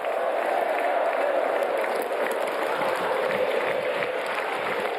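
A large crowd of mourners at a Chapecoense football club tribute applauds continuously in a dense, steady wash of clapping, with indistinct crowd noise mixed in.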